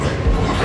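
A Howrah–Digha local train rumbles loudly across the Rupnarayan river bridge near Kolaghat, a dense, heavy, continuous roar heard from on board in a brief burst.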